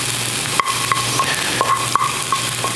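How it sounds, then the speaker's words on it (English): Onions and garlic sautéing in a pan for a cream sauce, a steady close sizzle broken by a few brief utensil clicks and scrapes as they are stirred, with no talking. "As soon as I'm done sauteing the onions and garlic"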